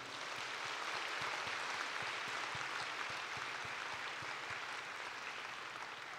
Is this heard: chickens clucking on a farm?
no